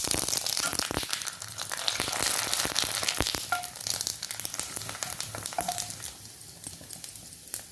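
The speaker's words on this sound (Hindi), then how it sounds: "साबूदाना के पापड़ देखिए तल के कितने टेस्टी और क्रिस्पी बने हुए हैं" Sabudana (tapioca pearl) papad fries in hot oil with a loud, continuous sizzle and dense popping crackles close by, easing slightly toward the end.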